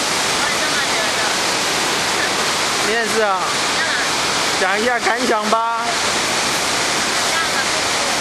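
Wulai Waterfall in Taiwan roars steadily as a dense, unbroken rush of falling water, loud and constant throughout, while people talk briefly over it in the middle.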